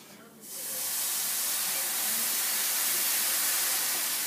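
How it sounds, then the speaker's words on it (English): Beef broth poured into a hot pan with browned meat, bursting into a loud, sustained steamy hiss after a brief quiet start, close and filling the scene. "Slowly, gradually stir in the broth"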